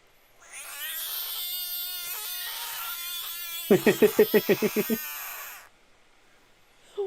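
A frog gives a loud, wailing call that sounds almost like a cat or a strangled cry, then a quick burst of about eight rapid pulsed croaks before falling quiet.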